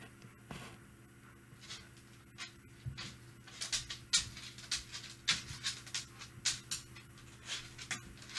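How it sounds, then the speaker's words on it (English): Dogs' claws click on a bedroom floor in the background, a quiet, irregular patter of small taps that grows busier toward the end, with no talk over it. "I don't know if you can hear my dogs clicking in the background."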